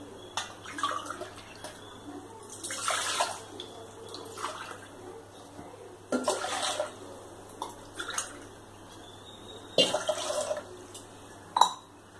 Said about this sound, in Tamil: 1 கப் எடுத்திருக்கேன் அரிசி, அதனால 3 கப் தண்ணி வைக்க போறேன்.